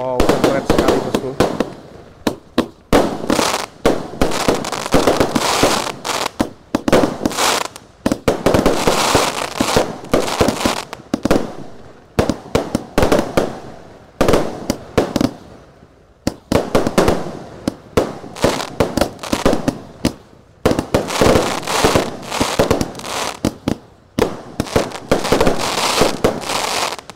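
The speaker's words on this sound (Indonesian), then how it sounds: "Basoka Roman candle menyala semuanya ini" An 80-shot Basoka Roman candle fires repeatedly in rapid volleys at a New Year celebration, loud close bursts and crackling pops in dense runs with brief gaps, while people talk and cheer over the blasts.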